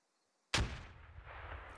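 A grenade goes off in a military shooter game, one sudden loud close blast breaking silence, followed by a rumbling low tail that lingers and slowly fades.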